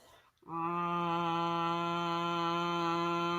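A steady, loud voiced hum on the exhale, buzzing like a bumblebee, starting after a brief quiet breath and holding evenly for about three seconds.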